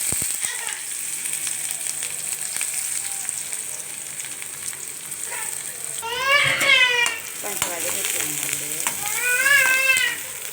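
Mustard seeds and chopped onion fry in hot oil in a pan while a sambar with banana stem is cooked, giving a steady sizzle with bursts of popping and crackling that swell louder toward the end, with no talk.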